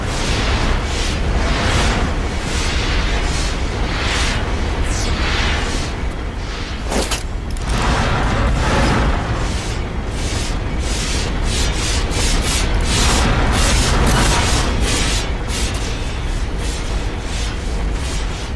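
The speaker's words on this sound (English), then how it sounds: "Giant mechanical blades." Giant mechanical blades grind and whoosh in a medieval English tomb in the game Tomb Raider Legend, a loud, dense, continuous rumbling scrape with repeating swishes throughout.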